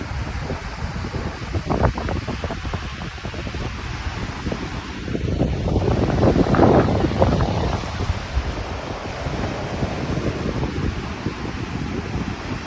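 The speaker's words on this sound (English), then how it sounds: "Look at these waves." Rough sea waves surge and crash under gale force winds, with steady roaring wind buffeting the microphone throughout and a louder swelling break near the middle.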